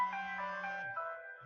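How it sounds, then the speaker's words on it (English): A phone chimes with a short, melodic text notification tone, a couple of bright ringing notes that play alone and quietly in a room before fading out. "Ignore that. That's my phone."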